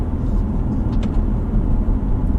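A BMW M3 F80 Competition cruising in comfort mode gives a calm, steady low rumble of engine and road noise, even in level and with no talking.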